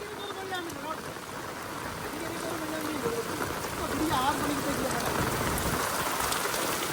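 Steady rain pours onto a flooded road in Jaffna, a dense continuous hiss of water spread evenly throughout, with voices talking faintly beneath it.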